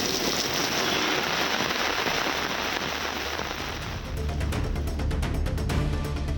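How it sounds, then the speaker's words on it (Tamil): Heavy midday rain pours down at Tirumala in Tirupati as a loud, unbroken hiss and patter, turning sharper and more crackling toward the end. "திருப்பதி திருமலையில் நண்பகலில் 1 மணி நேரம் கனமழை கொட்டியது"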